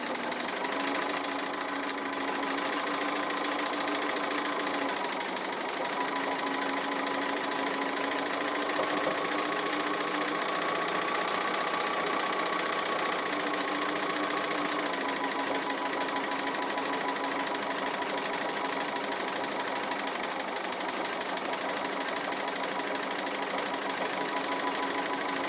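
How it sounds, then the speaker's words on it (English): A sewing machine stitches appliqué leaves and branches on a quilt, keeping up a continuous, steady mechanical whir and rattle for the whole stretch with no talking. "So I've been busy stitching my leaves and branches,"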